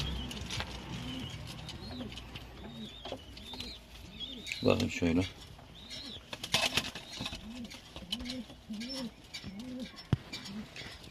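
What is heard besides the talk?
pigeons cooing in a large coop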